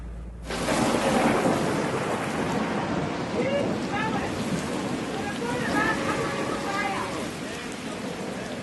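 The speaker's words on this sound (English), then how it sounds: "A heavy rainstorm descends on Kaihoro and on the vast expanse of Lake Albert." A heavy rainstorm over the vast expanse of Lake Albert at Kaihoro, a loud continuous roar of rain that rises suddenly and holds steady, with deep rumbling underneath and faint higher sounds scattered through it.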